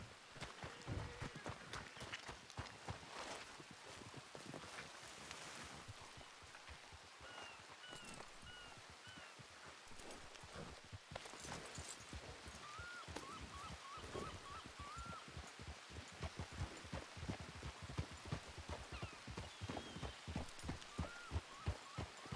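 Horse hooves clip-clop in a steady, rapid rhythm throughout a stable scene in a ranch role-play video game, with occasional honking fowl calls and faint background noise.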